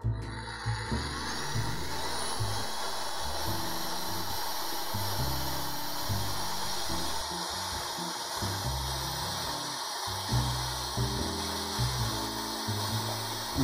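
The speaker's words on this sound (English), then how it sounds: "as always, drilling a pilot hole" Steady mechanical whirring of a power drill running a pilot hole through wood, with choppy grinding bursts underneath, continuous and fairly close.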